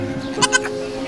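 A goat at a safari park gives a short bleat, two quick wavering cries close by, over a steady low background hum.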